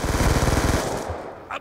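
Rapid automatic gunfire in Black Ops 2 multiplayer, a fast loud burst lasting under a second that quickly fades, followed by a short blip at the end.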